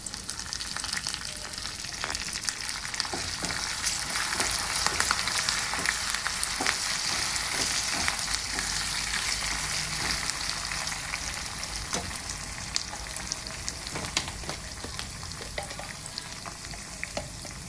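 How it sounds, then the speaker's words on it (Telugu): Ginger onion paste and curry leaves frying in a pan, a dense continuous sizzle with frequent scraping stirs, close and steady with no voice. "అల్లం ఉల్లిపాయ పేస్ట్ పచ్చివాసన పోయేదాకా వేయించుకున్న తర్వాత కరివేపాకు"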